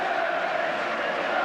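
Football crowd at Old Trafford applauding during a 1991 Cup-Winners' Cup match against Legia Warsaw, a dense, sustained roar of clapping and cheering from the stands.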